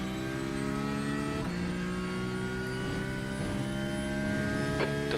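A GTE race car engine at Le Mans in the iRacing video game, a steady droning engine note with shifting harmonic whine, held at a constant level with a couple of brief gear-change dips.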